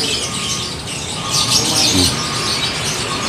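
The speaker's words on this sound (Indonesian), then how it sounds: "Demikian stok labet dan kenari di toko burung Mbak Dwi siang ini" Many canaries and lovebirds chirping and tweeting together in a busy chorus inside a bird shop, steady and fairly close, with no one speaking.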